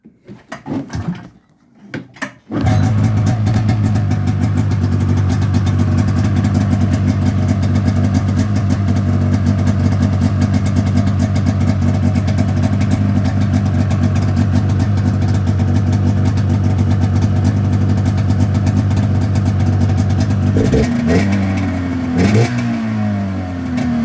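An EFI 500 engine swapped into a vehicle cranks and fires after a short pause, then runs loudly and steadily at close range with a constant idle, with some revving near the end.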